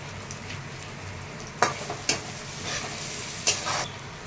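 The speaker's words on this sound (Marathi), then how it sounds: "हिरवी मिरची, लसूण, अद्रक हे टाकून घेतले आहे, छान परतून घ्यायचं आहे" Curry leaves, green chilli, garlic, ginger and spices fry in a pan with a soft steady sizzle, broken by three or four sharp spatula scrapes and stirs, and no speech.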